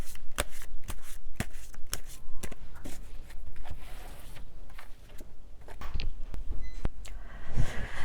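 Tarot cards are shuffled by hand at close range, giving a steady run of soft riffling flutters and sharp snaps for several seconds with no talking.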